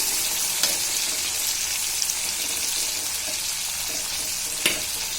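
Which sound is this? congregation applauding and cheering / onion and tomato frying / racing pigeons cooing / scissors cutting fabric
onion and tomato frying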